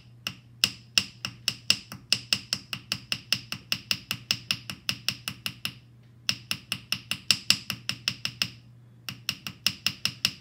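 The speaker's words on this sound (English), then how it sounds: "let's do ball peen on the open edge" A ball peen hammer striking the open edge of a small copper leaf to texture it, sharp metallic taps in fast even bursts with two brief pauses, close and clear.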